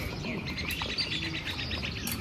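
Birds call and chirp softly in a quiet village, a run of quick, faint tweets repeating over low background hum with no voices.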